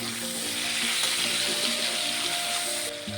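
Potatoes frying in a pan with chopped tomato, ginger-cumin paste and garlic paste, a steady close sizzle with faint stirring, continuous throughout with no talk.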